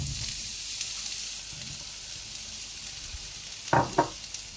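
Courgettes frying in olive oil in a very hot pan give a steady high sizzle throughout, with a couple of brief clatters near the end.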